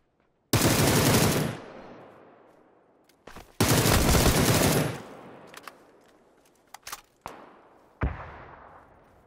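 Loud bursts of automatic gunfire in a video game, two long sustained volleys followed by several short single shots and a final sharp burst, with no talk.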